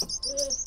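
A bird character in the video game Message Quest gives a brief call, a single short warbling tone over a thin, airy background.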